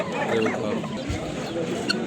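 Chickens and roosters cluck in a continuous, busy mix at a poultry market, with geese also on sale nearby, as nearby voices talk over the birds throughout.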